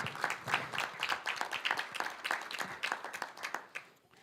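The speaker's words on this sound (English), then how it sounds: "We should give the coach a round of applause too." An audience at a school board meeting applauds the coach with steady, dense clapping that holds for several seconds, then thins out and fades near the end.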